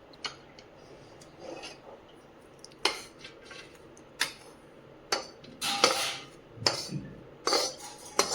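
Roasted flour for son papdi is scraped from a pan onto a plate. Intermittent rasping scrapes and light metallic clinks come in short bursts, close and fairly soft, with no talking.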